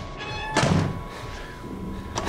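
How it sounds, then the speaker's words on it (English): A door slams hard during a door boost in the horror game Outlast, a heavy thud over steady game ambience, followed by a softer knock and another bump near the end. "And I'm going to perform a door boost here"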